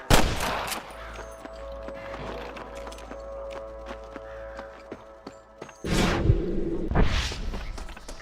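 Rifle and pistol fire at snipers across the way in the western game Red Dead Redemption, scattered shots under a steady ambient bed, with a louder cluster of blasts near the end.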